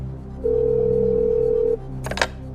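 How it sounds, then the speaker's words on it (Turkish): A telephone line on a call during the Turkish quiz show Who Wants to Be a Millionaire gives one long, steady electronic tone, then a short burst of clicks and line noise. "Çalıyor efendim Barış'ın telefonu."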